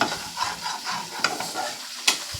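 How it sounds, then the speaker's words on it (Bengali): Poppy seed paste fries in a pan with turmeric and green chillies, a soft continuous sizzle broken by scraping stirs and a couple of sharper clinks from the spoon, close and fairly quiet. "হলুদ কাঁচা লঙ্কা দিয়ে ভালো করে ভেজে নিলাম।"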